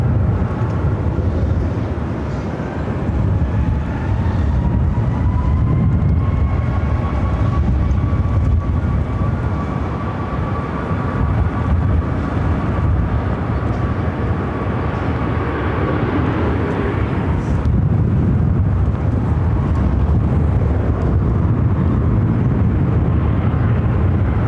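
A Southwest Airlines jet airliner takes off from runway 25 right at Phoenix airport, a loud continuous engine roar with a steady whine that sustains throughout before easing slightly.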